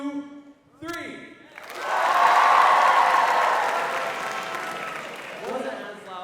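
A large crowd of high school students at a school assembly cheers together in one loud burst that swells after a count and slowly fades, with a voice talking just before and after.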